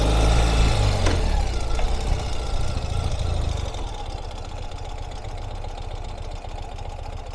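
A 2020 Ural Gear Up motorcycle engine runs close and loud, a low rumble that swells with a brief rev and then settles back toward a steady idle.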